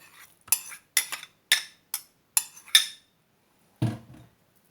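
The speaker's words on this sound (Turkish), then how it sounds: "Şöyle güzelce karıştıralım" A spoon strikes and scrapes the side of a pot about half a dozen times while spices are stirred in. The clinks are sharp and close, with a lower, duller knock near the end.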